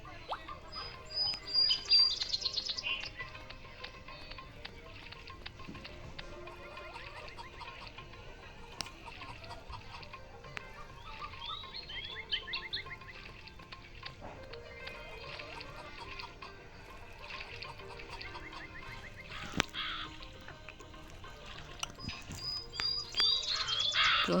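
A crow in the Meena 2 mobile game, heard as scattered bird chirps and calls over quiet game background sounds, fairly faint.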